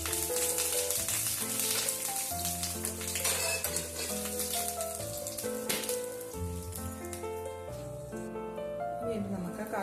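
Curry leaves crackle and sizzle in hot oil with mustard seeds for a tomato coconut curry, a steady hiss under background music.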